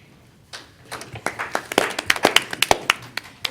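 Applause at a school board of education meeting after a new board member is sworn in, starting as a few scattered claps and building into a brisk clapping of a small crowd in a room.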